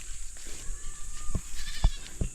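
Two female goats roam untethered and graze on a farm, giving a short, moderately loud bleat, followed by a few sharp thumps and rustles close by.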